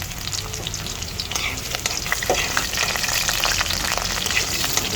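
Garlic frying in canola oil in a pan, a dense, loud, continuous crackling sizzle heard close up, steady throughout with no talking.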